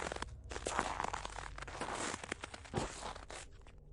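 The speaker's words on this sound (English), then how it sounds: "The only thing comforting me that I hadn't gone deaf was the sound of my breath and my boots crunching in the snow." Boots crunch through snow in a steady series of footsteps, close and fairly loud, with brief pauses between the heavier steps and no voices.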